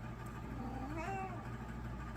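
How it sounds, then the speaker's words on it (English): A house cat gives a single drawn-out meow, close and clear, over a low steady room hum. "excuse my cat"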